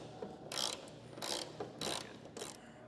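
A hand ratchet with a 10mm socket loosens a bolt on a 2021 Ford tailgate. Four separate bursts of rapid, close mechanical clicking are heard with short pauses between them, and there is no talk.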